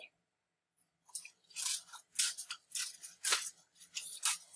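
Paper being cut with scissors up close, a brief silence then a series of quick crisp snips and rustling cuts in an uneven rhythm, no talking.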